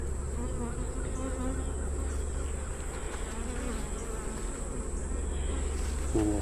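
A dense, steady drone of many honey bees buzzing close by during a hive inspection, continuous and even throughout with a faint higher whine above it.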